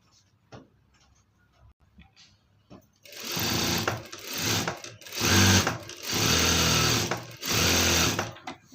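Sewing machine stitching the sleeve lining of a chudidar, starting after a quiet few seconds of light handling and then running in loud bursts with short pauses between them.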